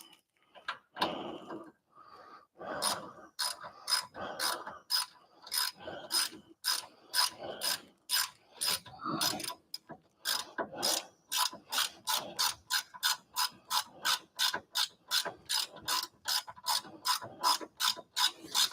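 A ratchet wrench clicks in quick repeated bursts while working on a Mazda Miata steering rack installation, the sharp pawl clicks coming close and loud in rhythmic strokes, speeding into a steady run toward the end.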